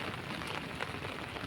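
Rain falls steadily outdoors over green fields of freshly sprouted grass during a monsoon downpour, a continuous soft hiss of drops that stays even and fairly faint throughout with no voices.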